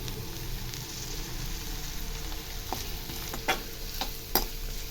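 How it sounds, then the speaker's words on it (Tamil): A chicken manchurian mixture fries steadily in a pan with a soft, constant sizzle, punctuated by a few sharp scrapes and taps of a stirring spoon near the end. "இப்போ இது நல்லா ஃப்ரை ஆகட்டும்"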